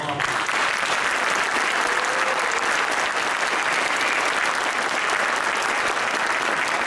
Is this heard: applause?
yes